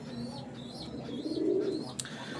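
Pigeons of a fancy flying breed give soft, low, rolling coos close by, with faint chirps and a brief sharp click near the end, no talking.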